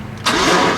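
A turbo LS engine in a burnout truck cranks on a poor starter, a short, loud, close-up burst of starter whir and engine noise that kicks in abruptly after a brief low rumble.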